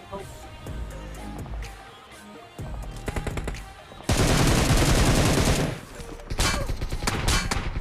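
Rapid bursts of gunfire from a barrel gun in the mobile battle royale game BGMI, with scattered shots early, then a dense sustained volley and further close, loud firing after a brief pause.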